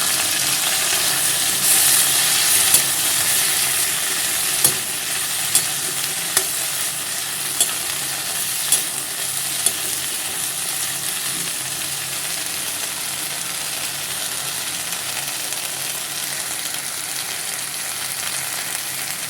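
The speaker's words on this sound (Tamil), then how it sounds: "கீரையை ஸ்லோலே வந்து பத்து நிமிஷம் நல்லா வதக்கிக்கலாம்" Vallarai (brahmi) greens sauté in oil with a constant sizzle, punctuated by a run of sharp spatula taps and scrapes against the pan early on.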